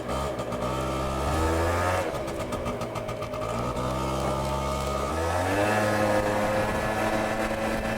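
Japanese motorcycle engine firing up and revving repeatedly, loud and close, with rising and falling rev sweeps and brief people talking underneath.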